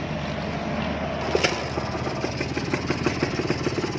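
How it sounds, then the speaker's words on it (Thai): A Serpico 150 motorcycle engine runs steadily at idle, its low, even putter continuous and close, with a brief sharper burst near the start and no talking. "เดี๋ยวมาฟังเสียงเครื่องกันครับ"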